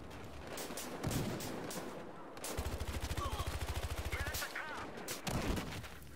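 Rapid bursts of video game gunfire, including a sustained automatic stretch in the middle with single shots before and after, all fairly loud, mixed with game noise and faint voices.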